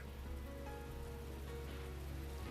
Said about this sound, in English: the sound of water drumming against the building seems to grow louder